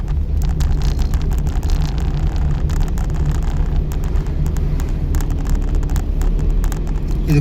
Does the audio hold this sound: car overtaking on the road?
yes